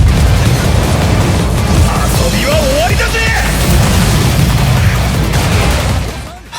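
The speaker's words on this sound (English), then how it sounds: "That's still a really nicely aged Soul Bomb animation." Soul Bomb explosion attack in a Bleach video game, a loud sustained roaring blast with rumbling bursts that holds for several seconds before cutting away, with someone talking over it.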